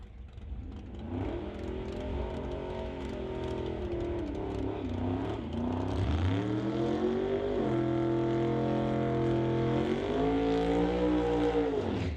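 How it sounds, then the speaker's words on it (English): Drag racing cars at a National Tire Non-Electronics elimination round finishing burnouts, engines roaring loud and sustained with sharp revving rises and falls, heard from trackside at a distance. "So burnout's complete for our first pairing of round 2 of eliminations in National Tire Non-Electronics"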